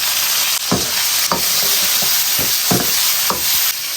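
Cucumber tossed in hot oil with scallion, ginger, garlic and tomato, a loud continuous sizzle broken by five or six sharp spatula scrapes against the wok at roughly even intervals.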